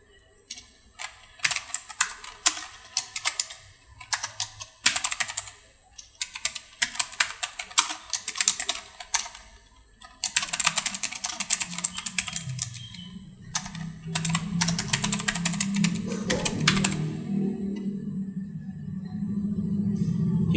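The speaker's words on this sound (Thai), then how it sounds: "หลังจากพิมพ์เสร็จก็ให้เรากด Enter นะครับผม" Rapid clicking keystrokes on a computer keyboard entering a command, bursts of close typing with short pauses, while a low hum or murmur rises underneath in the second half.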